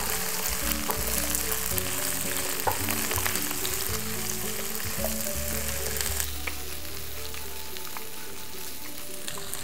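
Carrots, kamaboko and tofu stir-frying in a pan make a loud, steady sizzle with scraping stirs throughout, no voices over it.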